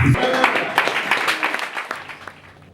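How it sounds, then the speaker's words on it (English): An audience at an academic linguistics event applauds just before a welcome address, with clapping mixed under talking and gradually fading over a few seconds. "Please, a round of applause."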